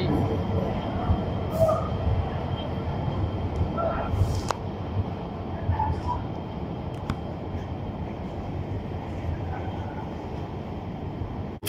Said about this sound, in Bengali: রেলগাড়ি